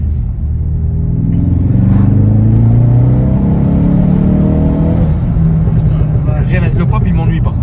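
A tuned car engine revs loud and close, a steady droning rumble that rises and falls across the whole stretch, with no clear separate exhaust pops standing out.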